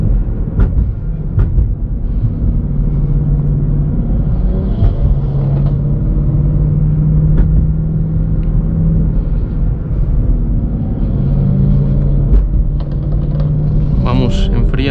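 A BMW M3 E92 engine runs steadily and loud throughout, a continuous low rumble with slight revving swells, likely idling while cooling after street racing, with voices talking over it.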